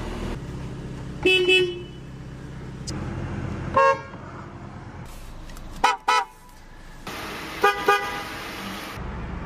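Several short horn toots at roadside, each blast brief and fairly loud, spaced irregularly over steady traffic rumble, with one longer sustained blast near the end.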